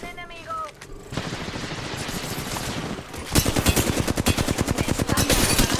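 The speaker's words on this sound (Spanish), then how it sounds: "Los enemigos me están disparando." Rapid enemy gunfire in a video game, dense automatic bursts and overlapping shots, loud and close, with a steady rattling stream that intensifies into heavier fire near the end.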